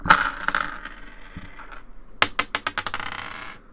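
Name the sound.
dice being rolled on a table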